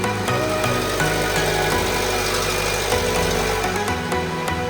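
An MG car engine runs close by with a loud, steady idle and a persistent rattling, knocking texture riding on it, continuous for the whole stretch with no talk.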